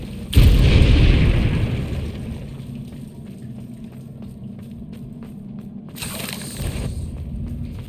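Fiery spell explosion from Confringo in the Hogwarts Legacy video game: a loud booming blast with a rumbling tail that fades over a couple of seconds, followed by a second, smaller burst a few seconds later.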